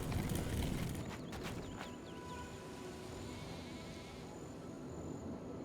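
Sheep in a fantasy role-playing game bleating a few times over soft hoof clopping and a low ambient background, fairly faint with no speech.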